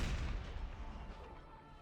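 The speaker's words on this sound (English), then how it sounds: "This artillery is having to shoot uphill." Artillery guns in Napoleon: Total War firing uphill, a heavy booming report that decays into a rolling rumble, loud at first and fading away.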